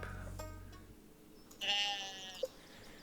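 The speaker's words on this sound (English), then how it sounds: "our sheep are going insane." Sheep bleating in a farming video game, a few faint synthetic bleats, one drawn-out call followed by short sharper ones, with quiet stretches between.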